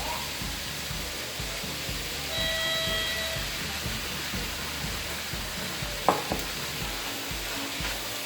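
Shrimp hit a hot pan for pad thai and sizzle steadily, a dense, even frying hiss that runs throughout, with a brief utensil clink partway through.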